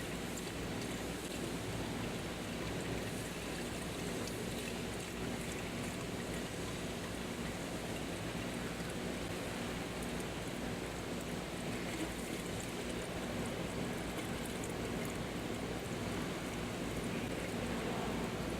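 Coolant poured steadily into the cooling system of a 2011 Ford Edge 3.5 FWD, making a continuous, even rushing trickle that holds at one level throughout, with no talking.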